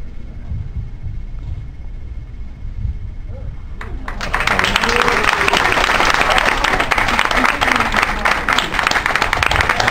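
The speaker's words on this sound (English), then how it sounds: "Hold the applause until you see the thing." An audience bursts into loud applause after a sword swallower takes a blade down his throat at a live show; quieter murmuring and stage sounds come first, then a sudden swell of clapping and crowd noise fills the rest.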